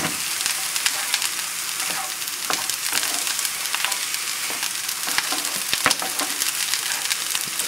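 Frozen garbanzo beans sizzle and crackle steadily in a hot pan, a dense, even frying hiss with scattered sharper pops, close and fairly loud, with no voices.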